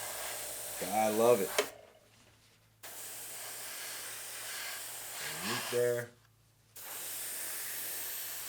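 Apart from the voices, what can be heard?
spraying paint on Tamiya Sherman 1/35 tank model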